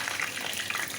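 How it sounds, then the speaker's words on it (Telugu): Bread frying in hot oil, a steady close crackling sizzle throughout the brief moment, with no voices. "ఆయిల్ హీట్ అయిన తర్వాత సిమ్లో పెట్టండి, ఎందుకంటే బ్రెడ్ కదండి తొందరగా ఫ్రై అయిపోతుంది."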